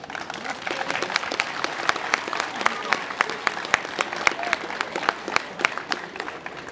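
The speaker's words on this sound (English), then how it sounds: "round of applause for Hollywood" A crowd gives a round of applause for the Hollywood team after the 2021 IFC final against An Tochar. The clapping is dense and steady, with sharp individual claps standing out throughout.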